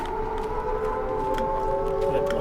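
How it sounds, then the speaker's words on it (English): An air raid siren in the video game Liminal Lane wails with a steady, sustained rising tone, moderately loud over a faint background. "But also still air raid sirens."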